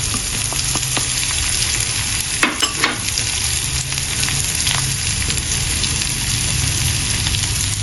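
Ingredients frying in oil for a cauliflower stir-fry, a loud steady sizzle with a few sharp pops and crackles as items drop into the hot pan.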